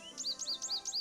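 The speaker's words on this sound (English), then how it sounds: "American goldfinch." An American goldfinch call plays from a bird-call cassette in the Nancy Drew: Stay Tuned for Danger video game. Quiet, high, paired chirps repeat four times in a quick, steady rhythm, alone without speech.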